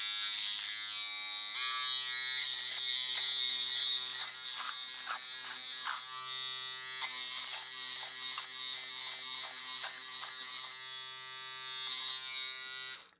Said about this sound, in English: Next I'll try the little foil shaver.